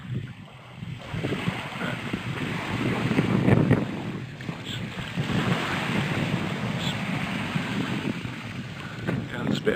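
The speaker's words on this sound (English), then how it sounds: "there's a bit of a wind, but it's not too bad" Wind buffeting the microphone and waves breaking at a beach in winter, a continuous rushing roar that swells and eases, with no voice heard.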